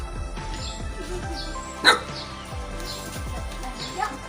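A dog barks and yips a few times at moderate distance, with faint birdsong and a sharp knock partway through.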